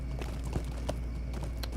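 Horse hooves clip-clopping while riding in the online game The Lord of the Rings Online, a soft steady gallop rhythm carried along under a constant game ambience and light background music.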